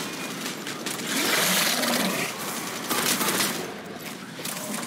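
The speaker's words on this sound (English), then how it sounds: "So I've got to get close to hit it with this shotgun." Shotgun fire in Mass Effect Legendary Edition: loud, dense bursts of gunfire and blasts run without a break across the whole stretch, with no talk over them.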